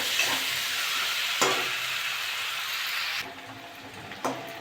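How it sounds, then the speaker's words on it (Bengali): Potatoes fried and stirred with spices in oil for aloo dum, a steady bright sizzle with occasional scraping strokes of a spatula, the frying noise dropping slightly near the end. "আলুগুলো এবার দিয়ে দেবো দিয়ে ভালো করে কষে নেবো"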